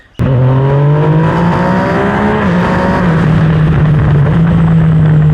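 Motocross dirt bike racing a 12-minute heat, picked up by an action camera's built-in mic: a loud, close engine snaps on abruptly and holds a steady, buzzing roar with rising and shifting pitch throughout.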